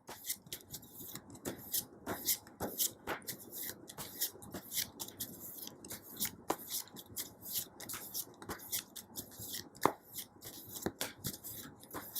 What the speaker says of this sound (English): think about your person while I shuffle the cards for you.